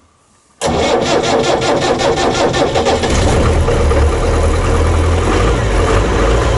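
A 2.25-litre straight-four Land Rover diesel engine cranks and catches abruptly, then settles into a loud, steady, rough clatter at close range.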